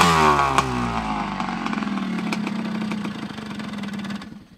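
A 1978 Honda CR250 Elsinore motocross motorcycle idles close by, its two-stroke engine putting out a steady, uneven burbling putter with a slight rev at the start, running alone without talk.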